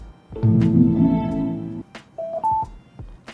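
A short electronic start-up chime from a Soundarc A3 Pro karaoke Bluetooth speaker: a sustained harmonic tone followed by two quick rising beeps, clear and close, with no talking.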